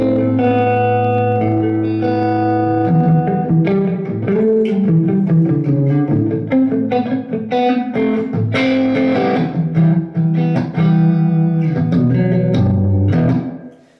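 A Blackstar guitar amp with its in-house DSP digital reverb switched on, playing a clean sustained guitar phrase of chords and single notes that rings out with a wash of reverb tail before fading.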